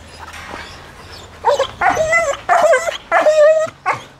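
A young Alaskan Malamute puppy whimpers and yips in about five short, high-pitched bursts, close by, with quiet pauses between them.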